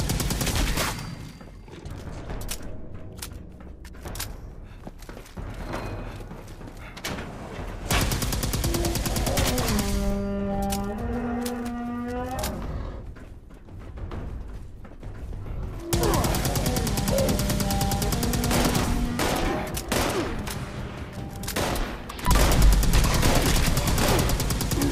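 Sustained automatic rifle fire in Fallout 76, loud and close, long rapid-fire bursts rattling almost continuously with brief pauses between strings of shots.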